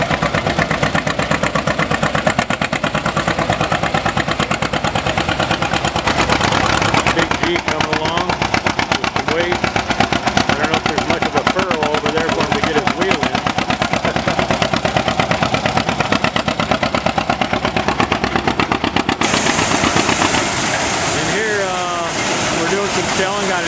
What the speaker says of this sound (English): shelling, got a Minneapolis-moline sheller